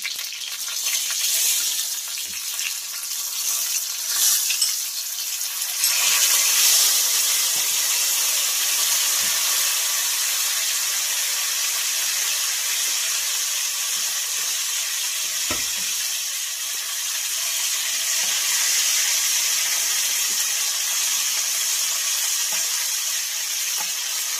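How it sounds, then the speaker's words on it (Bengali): Ginger garlic paste sizzling in hot oil while cooking shahi chicken korma, a steady bright hiss and crackle that holds up loud and close throughout, with occasional soft clicks of stirring. "আদা রসুন পেস্ট আবার 1 চামচ করে দিয়ে দিব তেলের মধ্যে।"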